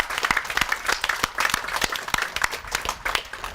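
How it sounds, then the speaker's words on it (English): An audience at a graduation ceremony in Cape May applauds the staff, with many overlapping hand claps forming a dense, lively patter that stays loud and steady. "Will you please join me in a round of applause for my entire staff at K-May?"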